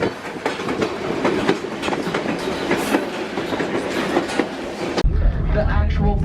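The Skagway train rolls along its rails with a steady loud rumble and rhythmic clickety-clack of the wheels, heard up close from on board, with voices faintly mixed in before the sound shifts abruptly near the end.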